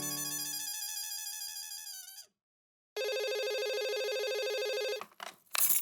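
A telephone rings during an outgoing call, a loud electronic ringback warble repeating in two long bursts separated by a short silence, ending with brief rustling.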